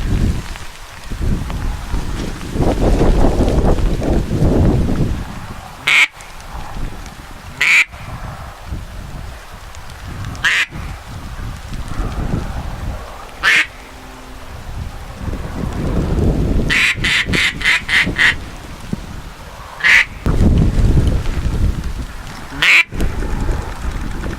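Repeated quacks from a hen duck ring out at intervals, including a quick run of several in a row, over a blustery wind-buffeted background.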